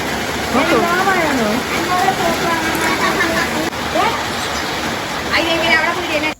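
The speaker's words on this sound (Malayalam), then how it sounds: "മഴയാണ് പെരുമഴയാണ്" Heavy rain pours down in a steady, dense hiss that fills the whole stretch, with voices talking over it.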